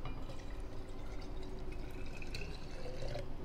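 Ginger ale pours from a freshly opened bottle into a pitcher of sangria, a steady liquid trickle and fizz running for several seconds amid soft background room noise.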